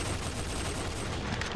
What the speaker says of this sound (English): Who needs the AK-50 when you got something that shoots this fast?